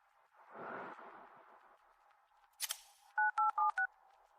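A phone handset keys in a number: four short, evenly spaced two-tone beeps come clearly near the end, after a quiet breathy rustle and a brief crackle, with no one talking.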